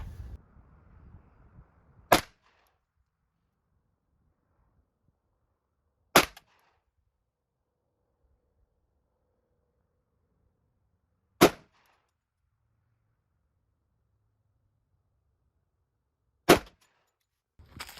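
Four sharp, loud gunshots from an Alpha Foxtrot 10mm 1911 pistol firing 180-grain HPR full metal jacket rounds, each crack standing alone with several seconds of quiet between them.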